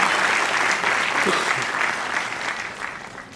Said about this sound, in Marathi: म्हणतो आपण एकदा जोरदार टाळ्या त्यांच्यासाठी सुद्धा वाजवल्या पाहिजे